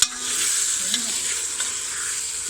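Nigella seeds (kalonji) frying in a pan, a steady close sizzle with light crackle and a few faint stirring scrapes, no talk.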